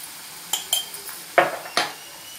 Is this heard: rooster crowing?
no